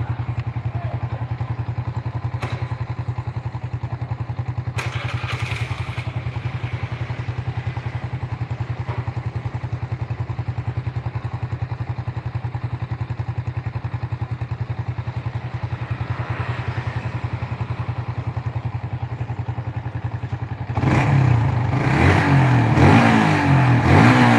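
Motorcycle with a standard Fiction setup idling steadily with a slight judder, close and loud, then revving harder with rougher clatter near the end; no talking.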